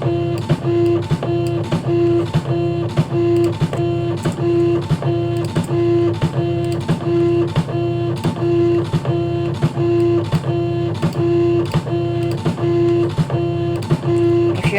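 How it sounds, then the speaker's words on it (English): A laser printer runs steadily, its mechanism pulsing in a fast, even rhythm of clicks over a constant motor whir, loud and close with no voices. "Now it has to be a laser printer for this technique"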